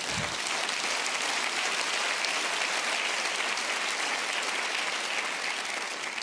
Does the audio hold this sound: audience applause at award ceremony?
yes